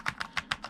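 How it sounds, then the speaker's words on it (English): Keys on a Corsair K70 RGB MK.2 Low Profile mechanical keyboard clack in five distinct, evenly spaced strokes, close and fairly quiet, with no voice over them. "You can definitely make out what the keycaps sound like if I'm just jamming away on the keyboard."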